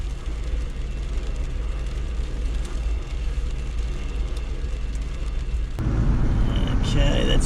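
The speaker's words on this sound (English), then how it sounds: "And there goes the train." A train passes in Melbourne during a hail storm, a loud, continuous low rumble that swells a little louder partway through, mixed with dense storm noise.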